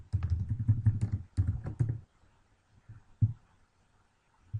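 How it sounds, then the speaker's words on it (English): Quick bursts of clicking keystrokes on a computer keyboard while entering a blog link, a dense run of taps followed by a pause and a few scattered presses, close and fairly soft with no talk. "So just typing in here, I'm going to put my blog"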